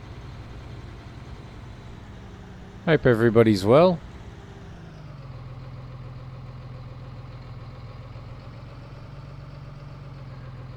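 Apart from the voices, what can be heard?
Claas tractor engine in video game Farming Simulator 19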